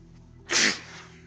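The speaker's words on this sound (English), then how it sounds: "That was a nice sneeze." One short, sharp sneeze bursts out close to the microphone, loud and alone over a quiet background hum.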